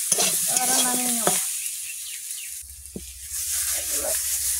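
Tomatoes and vegetables with drumstick flowers frying in a pan, soft continuous sizzle with scraping stirs and a brief clunk, someone talking over it at the start.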